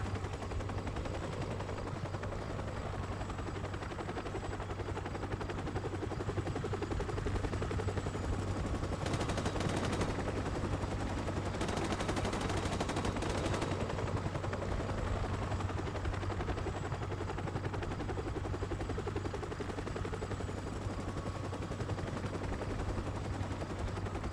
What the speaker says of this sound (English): I can't hide because the chopper just sticks around